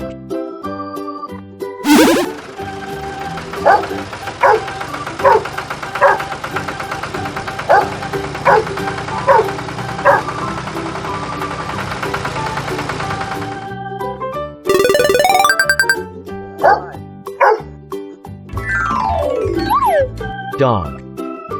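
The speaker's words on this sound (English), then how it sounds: "Dog." A dog barks in short repeated yaps over a bright, steady children's song about farm animals, with the musical backing staying loud throughout.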